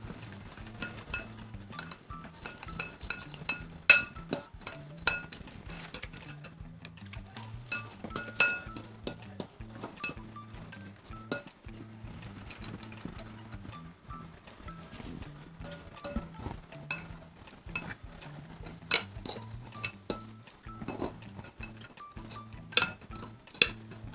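A spoon clinks and scrapes against a pot while a potato gari mixture is stirred, giving irregular light metallic taps and knocks over a quiet background.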